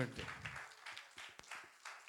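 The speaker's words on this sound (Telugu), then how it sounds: "కొట్టండి చప్పట్లు" Children clapping at a church puppet show, a few soft scattered claps after a voice fades out, faint and brief.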